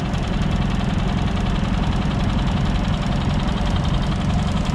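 A struggling generator engine knocks and labors, its steady low rumble and rapid rough pulsing continuous and close throughout, with no other sounds over it.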